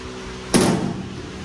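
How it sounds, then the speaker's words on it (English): A lid on a Harbor Freight welding cart is shut, making one moderately loud, close metallic thud that dies away into a quiet room. "Have the lid closed and open the drawers"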